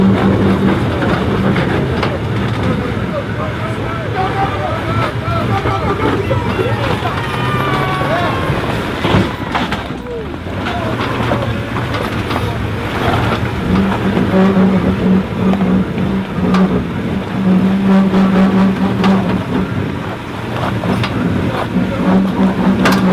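Toyota Land Cruiser accelerating on an off-road overland trail in West Virginia, its engine a loud, steady droning rumble from start to finish, with voices over it at times.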